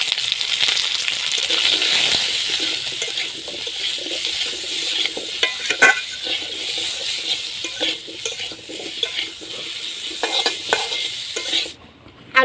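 Potatoes fry in oil left over from frying dhoka lentil cakes, with salt and turmeric, a steady bright sizzle joined by occasional stirring scrapes and clinks, loud and close, before it cuts off abruptly at the end.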